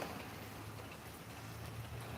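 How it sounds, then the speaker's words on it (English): Steady rain falls on a residential driveway near neighbouring houses, a soft continuous hiss with scattered drop patter, quiet and even throughout, with no voices. "This is the best rain we've had in a while."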